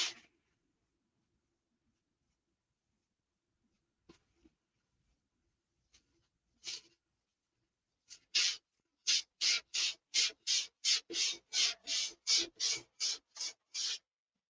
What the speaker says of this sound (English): So I'm sanding through the red.